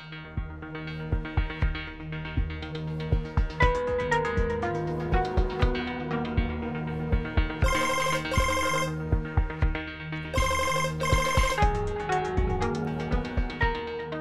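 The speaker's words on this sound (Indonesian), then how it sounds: "Lo angkat juga telepon gue, Dip." A phone ringtone plays a repeating melodic tune with steady beats, ringing on loudly and alone for several seconds before anyone answers.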